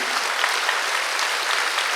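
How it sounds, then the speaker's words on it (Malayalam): A church congregation at a convention claps loudly and continuously, a dense wash of many hands for the full two seconds. "ഒന്ന് കരപിടിച്ചേ, ക്ലാപ്പ് യുവർ ഹാൻഡ്സ്"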